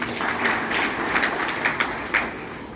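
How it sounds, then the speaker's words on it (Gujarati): An audience at a Saturday elders' gathering at the Dhamdi ashram claps steadily, a dense wash of applause with a few louder bursts, holding at an even level throughout. "આપણે તાળીઓથી વધાવી"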